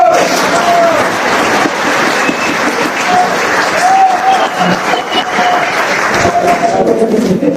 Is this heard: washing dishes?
no